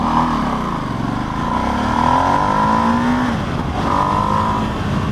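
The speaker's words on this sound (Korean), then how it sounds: "자, 엔진 소리는 빨리 적응을 해야 됩니다." A Ducati Streetfighter V2S motorcycle engine roars loud and close, its pitch rising and falling with the throttle as it revs under way, with no talk over it.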